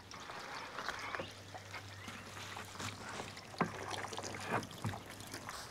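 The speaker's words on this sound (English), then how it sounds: "let's quickly rinse these off" Water streams and splashes as soap is rinsed off solar panels. A steady, close hiss of spray runs throughout with small irregular splatters and a low background hum.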